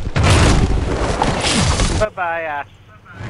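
A grenade explodes in a video game with a loud, sustained roaring boom lasting about two seconds, cut off abruptly and followed by a brief spoken remark.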